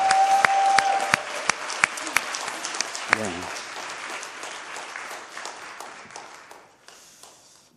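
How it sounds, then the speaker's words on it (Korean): Church congregation applauding at a Christmas service, a dense burst of clapping that gradually thins and fades, with someone speaking briefly over it. "박수를 드립니다."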